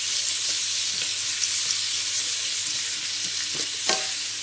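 Leeks sizzle steadily in olive oil in a pan, seasoned with salt and pepper, in a close, even frying hiss broken by a few soft stirring clicks.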